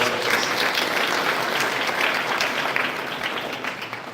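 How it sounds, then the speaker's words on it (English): Audience applause fills a pharmacy college graduation ceremony, dense steady clapping from a large crowd that fades slightly toward the end. "A huge round of applause to Dr. Gaurav, sir."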